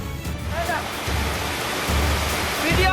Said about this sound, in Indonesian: Hujan es yang disertai hujan deras dan angin kencang membuat warga sekitar histeris hingga viral di media sosial.